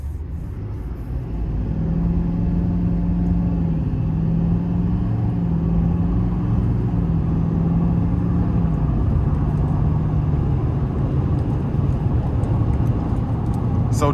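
A 2026 Chevy Silverado 2500HD LT pickup with a Duramax diesel accelerates in a short pull, heard from inside the cab as a steady, loud low engine drone whose pitch rises gradually and holds throughout.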